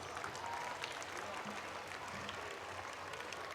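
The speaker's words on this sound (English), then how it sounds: "they truly deserve a thunderous applause" An audience at a school Republic Day function applauds after a children's dance, with steady, dense clapping that holds at an even level throughout and a faint murmur of voices mixed in.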